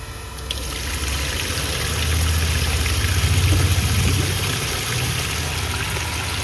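Water pouring into a washing machine drum, a steady rushing flow over a low motor hum that swells midway and then settles, close and continuous with no voices.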